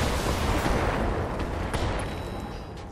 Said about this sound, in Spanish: Disparo por la espalda.